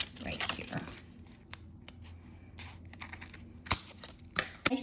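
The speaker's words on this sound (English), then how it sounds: "And then I'm gonna go ahead and cut off the excess right here and right here." Scissors snipping excess paper while assembling a junk journal page, a few soft crisp cuts and light paper rustles, close and quiet, with someone speaking at the start.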